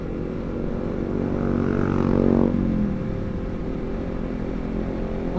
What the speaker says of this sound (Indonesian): video tes soundnya sekalian tes ride knalpot Villan MV2 Carbon Forged full system di CBR